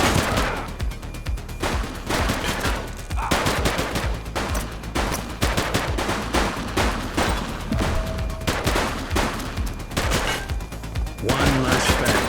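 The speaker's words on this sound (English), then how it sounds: "Shots fired!" Dense gunfire rattles in the police video game The Precinct, loud rapid machine-gun bursts and overlapping shots in a sustained firefight, with occasional voices under the shooting.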